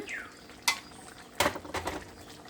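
A spoon stirs sweet pumpkin and hilsa fish curry in a pot, giving a few sharp clinks and scrapes against the metal between quiet gaps.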